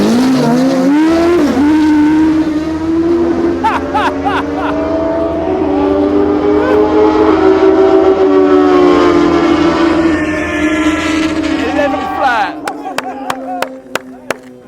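A dragster tearing down the Santa Pod drag strip, its loud engine roar sweeping up in pitch and holding steady for about twelve seconds before cutting off. Bursts of crackle and popping follow near the end.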